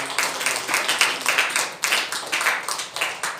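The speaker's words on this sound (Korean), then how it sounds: "하나님께 영광의 박수 올려드리겠습니다." A church congregation at a Sunday worship service claps together in a loud, fairly regular beat, with bursts of hand claps rising and falling in a rhythmic pulse across a few seconds.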